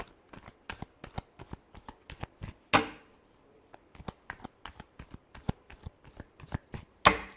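Tarot cards shuffled by hand in quick, irregular bursts of crisp riffling clicks, close and dry, with two louder slaps of the deck being squared, no talking.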